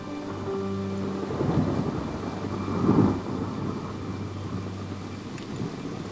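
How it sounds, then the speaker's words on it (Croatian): Steady rain hiss with a low rumble of wind through bare branches, swelling briefly in gusts around the middle, continuous and fairly close. "Tek kiša i vjetar prolaze kroz gole grane."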